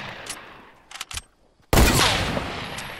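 Sniper rifle fire in a video game one-on-one match: a few quick sharp cracks, then one loud, close shot with a long decaying echo.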